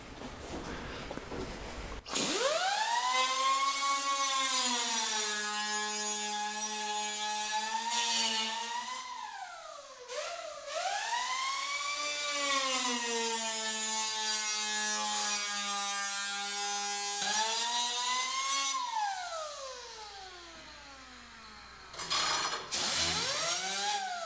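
A saw cuts through a C1 XL floor panel from its back side, a loud, steady buzzing drone with strong harmonic bands that rise and fall in pitch as the blade loads, with brief pauses around the tenth and seventeenth seconds, no talk.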